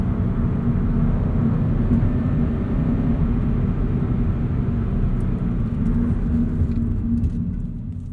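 A car with warmed-up old performance tires drives up a highway entrance ramp, a steady loud road rumble and engine drone throughout that eases slightly near the end, with no talking.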